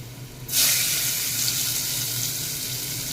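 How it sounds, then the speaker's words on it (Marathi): Onion with red chilli hitting hot oil in a pan, a sudden bright sizzle that bursts in and settles into a steady hiss of frying, fairly close and unbroken. "लाल मिरची घालूया आणि कांदा थोडासा गुलाबी रंगाचा होईपर्यंत परतून घेऊयात"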